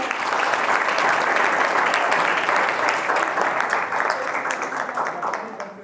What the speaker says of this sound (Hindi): पवन के लिए जोरदार ताली